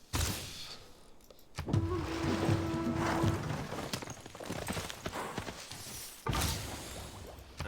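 Horse hooves clip-clop in the strategy video game Civilization 6, a run of hollow knocks over a busy layer of game sound effects, moderately loud, with no speech.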